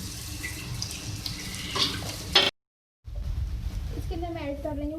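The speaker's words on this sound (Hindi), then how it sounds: "इसके बाद मैं इसमें ऐड करूंगी जो हमारी फ्राई की हुई प्याज थी वो।" Fried onions tipped into bhindi in a pan and stirred, a bright scraping sizzle cut by a brief gap, then renewed frying noise with someone speaking over it.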